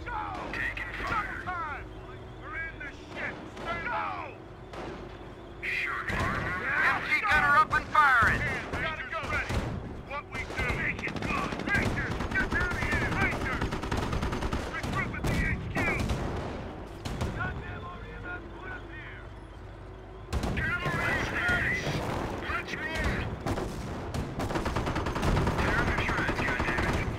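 Heavy gunfire and artillery crackle through a Company of Heroes Normandy battle: dense bursts of machine-gun and rifle fire with booming blasts, continuous and loud, interrupted briefly around a lull, with voices calling out between shots.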